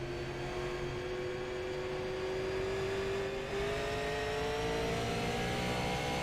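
A NASCAR race car engine drones steadily at moderate volume, its pitch climbing slowly as it accelerates, heard from inside the car with no talk.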